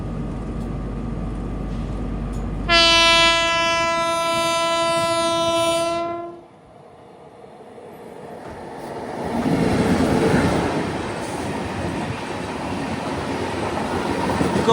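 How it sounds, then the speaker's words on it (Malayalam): A Gorakhpur–Thiruvananthapuram North Raptisagar Express, headlight on, sounds a loud, sustained horn blast of about three seconds, then rumbles past with a steady roar that rises again as the carriages go by. "ഹെഡ്ലൈറ്റൊക്കെ ഇട്ട് ഒരു ട്രെയിൻ വരികയാണ്."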